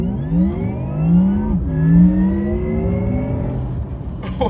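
A 2020 Porsche Taycan electric car in Sport Plus with its optional electric sound, accelerating from a standstill with a loud, rising synthetic whine heard from inside the cabin.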